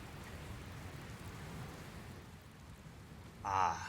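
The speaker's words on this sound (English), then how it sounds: "Where did this rain come from?" Steady rainfall in the Dragon Quest Builders 2 video game as a storm rolls in, a soft continuous patter throughout, ending with a brief brighter burst of game sound effect.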